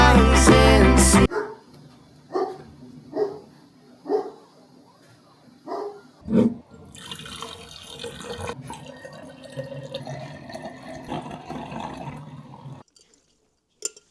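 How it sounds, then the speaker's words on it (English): A dog playing indoors gives a series of short, evenly spaced barks or yips. Water drips and runs nearby, and later there is some clattering. "I don't know if you can hear my dog playing in the background."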